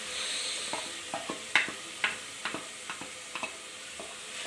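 Ground masala frying in oil for a mint chicken fry gives a soft, steady sizzle, broken by a regular run of sharp spatula scrapes and taps as it is stirred, with no talking.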